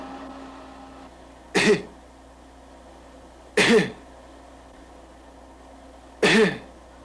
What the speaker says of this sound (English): Now give me a big cough.